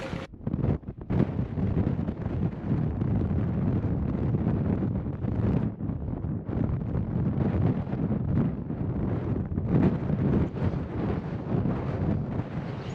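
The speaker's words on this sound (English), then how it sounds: "It's a wee bit windy up here this morning and cold." Strong, steady wind on a clifftop at Kilt Rock, Isle of Skye, roars and buffets continuously across the microphone, with low rumbling gusts and no voices.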